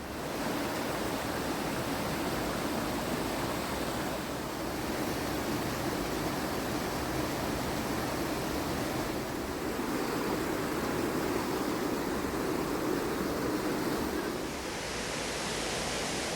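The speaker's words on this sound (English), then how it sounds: "This is the Polenass waterfall." Poulanass waterfall at Glendalough pours in a steady, unbroken rush of falling water, heard up close at moderate loudness with no voices.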